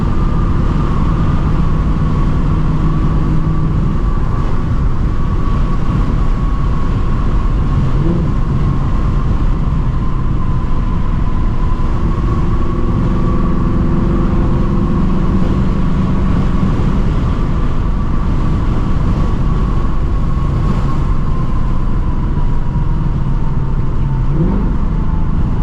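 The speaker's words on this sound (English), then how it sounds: "The Gen 4 Coyote, man, it sounds amazing." A Gen 4 Ford Coyote V8 engine rumbles steadily nearby, idling with a deep low drone and occasional slight rises in pitch, continuous throughout.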